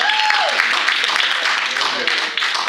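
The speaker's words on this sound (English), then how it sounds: "Give him a round of applause." A comedy club audience gives a burst of applause and cheering, loud and close, with voices talking over the clapping throughout.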